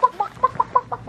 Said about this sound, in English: I'm gonna first show you our chickens